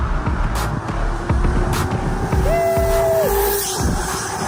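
An E-Box 2.0 electric pit bike runs at full throttle, its steady motor whine holding and briefly rising in pitch over constant rumbling wind and road noise.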